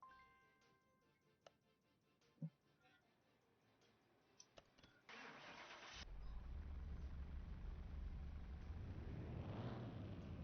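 Car engine running on a dynamometer in Car Mechanic Simulator 2021, starting up after quiet ticks and clicks and settling into a loud, steady drone that swells toward the end.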